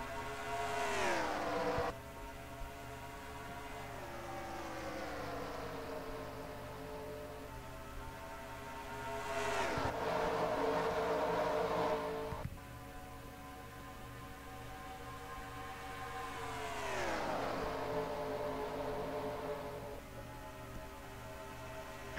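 Race cars in a video game at Homestead-Miami after the green flag, engines whining and sweeping up and down in long pitch glides as cars pass at intervals, with a constant droning hum underneath and no talking.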